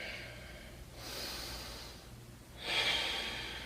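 Deep, slow breaths during a yoga pose, two drawn-out exhalations heard close and quiet with a pause between them, no talking.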